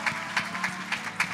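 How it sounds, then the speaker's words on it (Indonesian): A church congregation claps for God during a Sunday service, a short burst of rhythmic applause with many hands striking roughly together in a steady beat, fairly close and full. "Yang mau kita berikan tepuk tangan bagi Tuhan."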